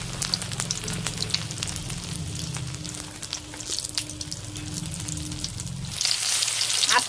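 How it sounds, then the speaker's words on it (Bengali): Battered ash gourd pieces fry in hot oil with a steady close sizzle and scattered crackling pops, the frying holding continuous for about six seconds before a brighter burst of hiss at the end; no one speaks. "তেলের উপরে ছেড়ে দিলাম।"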